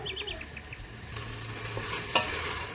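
Beef and chopped onions sizzle and crackle steadily in a hot pan, with faint stirring scrapes and a brief clink partway through.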